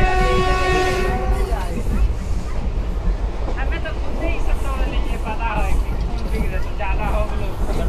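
A passenger train carrying college students runs between stations on the Tiruchirappalli to Virudhunagar line, with a horn sounding at the start and steady rail rumble underneath while voices chatter in the carriage.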